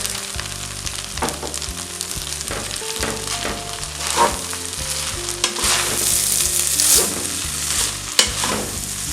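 Egg frying in a pan while pineapple fried rice with chicken and shrimp is made, a steady close sizzle with repeated scraping stirs through the whole stretch, no talking.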